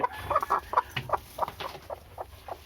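A brooding hen sitting on eggs clucks in a quick series of short, close calls, steady and fairly soft, with a quiet background.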